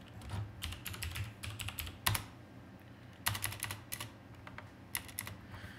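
Password being entered on a computer keyboard, close clattering key presses in several quick bursts with short gaps over a low steady room hum.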